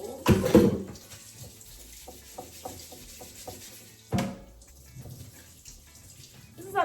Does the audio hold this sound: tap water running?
yes